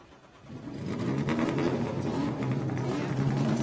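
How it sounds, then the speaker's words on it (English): IndyCar race car engines fire up on pit lane at the Firestone Grand Prix of St. Petersburg, a rising mechanical roar that settles into a steady, dense idle rumble from several cars nearby. "Engines fire down here on pit lane."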